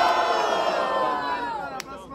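Crowd at a rap battle vote in Itaquera cheering and shouting loudly in a sustained roar that gradually fades over about two seconds, with a sharp whoop near the end.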